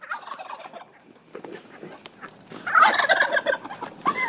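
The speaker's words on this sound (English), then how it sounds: "Hey, those turkeys are going to get your food, Zena." Turkeys gobble in rapid, warbling bursts, growing louder and more crowded toward the end, with some quieter bird calls before.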